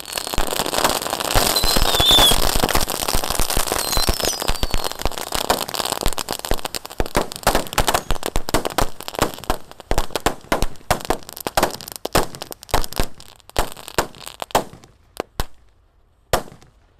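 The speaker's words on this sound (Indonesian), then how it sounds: "eksperimen menyalakan banyak sekali mercon dan petasan di lubang tanah" Dozens of firecrackers and New Year fireworks set off together inside a hole in the ground, bursting in a dense, loud crackling barrage that gradually thins into scattered sharp pops, with a final lone bang near the end.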